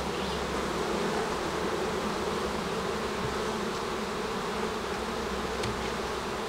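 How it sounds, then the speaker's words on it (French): Honey bees hum steadily around a hive holding a small rescued swarm without a queen, a dense, even buzz that stays constant throughout with no talk over it. "le petit essaim que j'ai récupéré qui n'avait pas de reine va pouvoir s'en faire une également"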